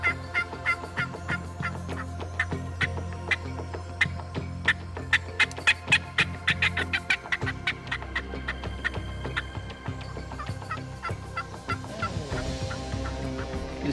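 Wild turkeys gobble and yelp repeatedly in a rapid series, loud and close, with more calls layered over one another toward the end, as hens gather in a field during a turkey hunt.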